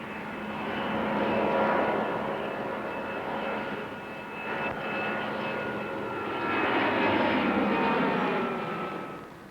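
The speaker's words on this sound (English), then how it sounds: "The A310 lifts off into its element." An Airbus A310 airliner takes off on its maiden flight, its jet engines a loud, steady roar with a broad rumble that swells and holds throughout, no voices present.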